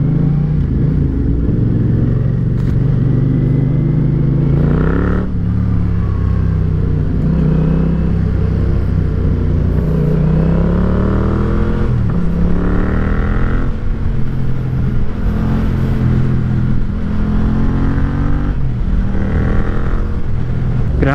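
A group of big bikes cruising along a road near Numancia, Aklan during a riders' event, with continuous loud engine rumble and rising and falling revs as machines roll past at close range.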